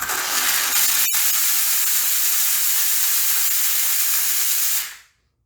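A US Steam Falcon Plus steam cleaner, just switched off, gives a loud steady hiss that keeps going for several seconds, then tapers quickly away to silence.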